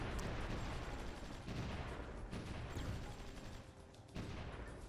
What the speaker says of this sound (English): Looks like the artillery is having a field day here